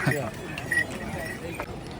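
Horses clopping along the Gaurikund to Kedarnath trek path in the Himalayas, a few hoof strikes and faint jingles close by, while someone talks over them.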